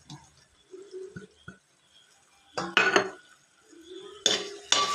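Curry masala powder and turmeric being stirred in a pan, heard as scattered clinks and scrapes of a utensil against cookware, with a few louder bursts of scraping and clatter and quiet gaps between.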